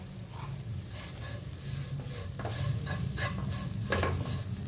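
Onion masala with pepper powder being sautéed in a pan for a Kerala squid roast, a steady low sizzle with soft scraping stirs of a spatula, close and continuous.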